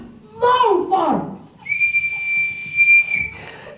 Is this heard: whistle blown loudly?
yes